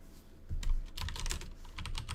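Rapid, uneven clicking of keys on a standard mechanical computer keyboard during programming work, close and fairly quiet, with a few bursts of faster keystrokes and no talking.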